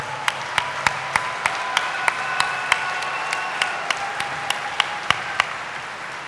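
A party campaign conference crowd claps as candidate Natalie McGarry takes the stage, the sound a steady, evenly spaced rhythmic clapping with sharp regular beats over a continuous hall murmur.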